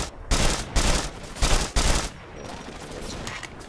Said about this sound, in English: Machine gun now.